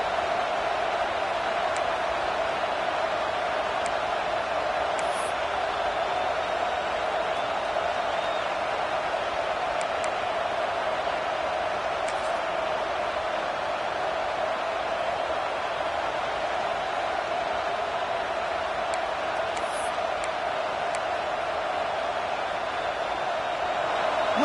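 A college football stadium crowd at an Auburn game keeps up a continuous broad roar that stays steady and evenly loud, blending into one distant wash of noise.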